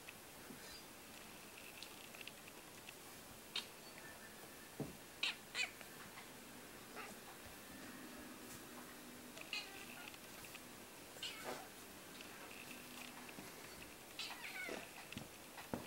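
A cat hunting a mosquito gives several short, soft meows spread unevenly over a quiet background, with a few faint taps and rustles between them.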